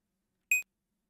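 An alarm being set in a horror video game gives a single short electronic beep, clear and tonal, alone against silence.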